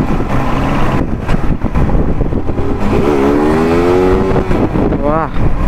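A Honda CBR sport bike revs hard in first gear, loud and close, with rising engine whine sweeping upward over steady exhaust roar and a short sharp rev near the end.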